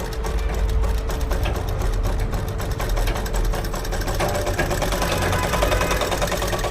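Sewing machine stitching blouse sleeves, a loud, close, continuous mechanical whir with a fast steady rhythm that runs without pause and no talking.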